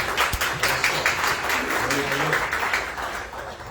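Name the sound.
congregation applause for fathers in church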